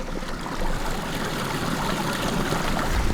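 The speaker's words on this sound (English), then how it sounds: "That's flowing water beneath all this snow." Steady, broadband rushing of water flowing continuously beneath snow in a small valley, muffled and fairly even in level throughout, with no voices.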